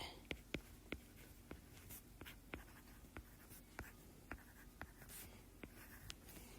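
Pen writing by hand on paper during a worked calculation, a series of soft scratchy strokes and light taps close by in a quiet room, with faint speech at times.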